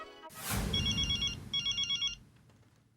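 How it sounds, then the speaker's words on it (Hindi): A telephone rings in two bursts of a trilling electronic bell after a brief rush of sound, then fades to quiet room noise. "अभी मेहता साहब को फोन करता हूँ।"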